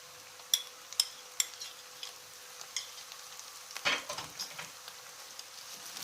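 Spiced meat, seasoned with chili flakes, black pepper and salt, sautéed in a pan for şehzade kebab, with a few sharp utensil clicks early on, then a clear stirring scrape and soft sizzling close by, no talking.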